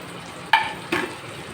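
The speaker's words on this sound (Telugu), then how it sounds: "ఇప్పుడు దుంపలు కూడా వేగుతున్నాయి" Potatoes frying in a pan make a faint, low hiss, broken by two quick scraping stirs in close succession.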